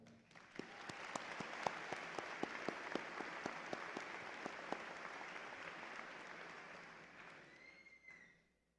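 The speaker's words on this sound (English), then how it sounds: "Please join me in applause." Audience applause at a Georgia Southern University fall graduation ceremony, sustained even clapping from a large crowd at moderate distance that swells, holds for several seconds, then fades out.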